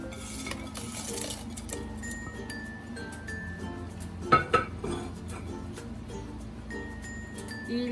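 Garlic, bay leaf and eucalyptus go into a pot of herbal tea, with soft clinks of a utensil against the pot, two sharper knocks midway, over low kitchen background noise.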